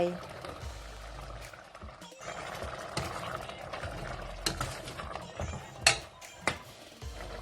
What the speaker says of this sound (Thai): หมูเริ่มจะสุกก็จะเติมกะทิที่เหลือจนหมดจ้า